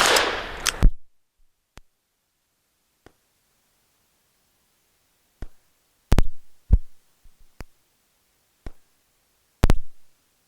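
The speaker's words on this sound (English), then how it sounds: "I'm gonna have to shoot it one-handed because that's how I learned to shoot guns like these" A Diamondback Sidekick revolver fired one-handed outdoors, sharp single shots spaced irregularly, a few closely paired, each loud and dry with a short tail and silence between them.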